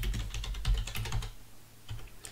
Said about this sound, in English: by typing cd project 1 and enter